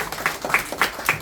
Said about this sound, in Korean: 힘찬 박수 부탁드립니다, 여러분들